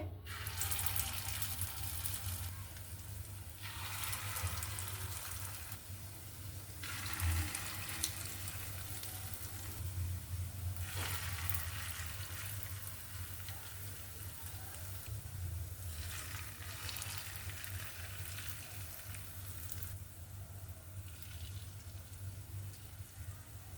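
Onion and egg pakoras fry in hot oil, giving a steady, close sizzle that swells in broad hissing surges every few seconds, with no voices.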